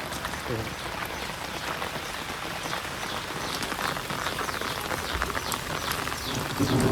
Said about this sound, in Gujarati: એવો વરસાદ છે ધીમો ધીમો